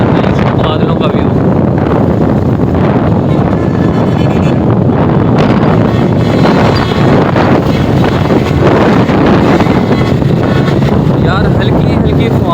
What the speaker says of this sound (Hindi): ठंडी ठंडी हल्की हल्की फुहार हो रही है और ठंडी हवा चल रही है